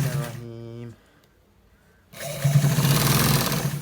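A sewing machine stitches a V-neck collar in two quick bursts of rapid, steady whirring, split by a short pause of near silence; the second run is louder and denser.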